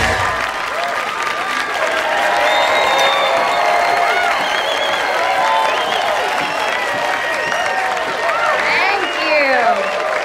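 A comedy-club audience at the Wolford applauds and cheers for a stand-up routine, dense clapping and whoops sustained throughout, loud and close.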